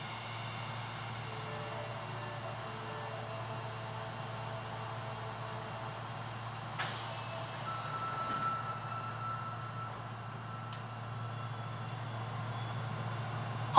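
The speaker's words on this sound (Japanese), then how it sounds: "野田阪神行き扉が閉まります。" An Osaka Metro Sennichimae Line train bound for Nodahanshin idles with a low steady rumble inside the car, then a sharp broadband burst of the doors closing is followed by faint warning tones.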